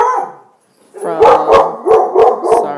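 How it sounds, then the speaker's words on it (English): A dog barks five times in a quick, fairly regular series, close and loud, after a brief quiet pause; an earlier vocal sound precedes the barks. "that's my dog again"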